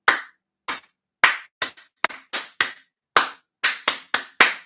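Hands clapping a rhythm alone, a dozen sharp close claps in an uneven pattern of quick pairs and pauses with silence between.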